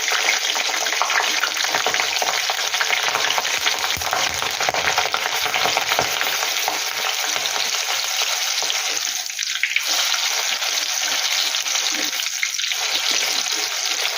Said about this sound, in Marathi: अशा प्रकारे ही मिरची तळून घ्यायची